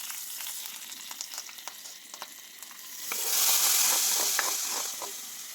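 A chili and curry leaf tempering poured into a coconut-based mussel curry, with light crackles and pops giving way to a louder burst of steady hissing sizzle up close.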